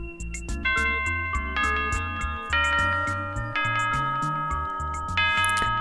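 Chiming doorbell in the video game Dayshift at Freddy's, ringing out a series of bright, overlapping bell tones that play a descending-and-rising melody over several seconds, loud and alone.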